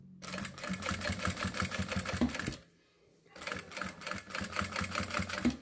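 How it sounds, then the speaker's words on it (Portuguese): A sewing machine stitches a synthetic leather wallet close to the zipper marking, running in fast, steady bursts of rapid clicking. It stops briefly in the middle, then resumes just as loudly. "Eu vou vir aqui, vou segurar as duas linhas e vou vir costurando."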